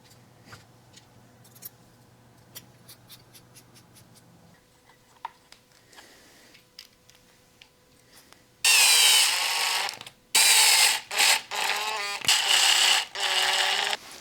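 Small ticks and clicks as hinge pin screws with Loctite go into a Traxxas Maxx V2 RC car, followed by loud buzzing bursts of a power screwdriver driving them down, close up.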